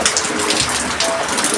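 Rain pours down with water falling steadily, a dense loud wash of splashing, with a voice faintly present underneath.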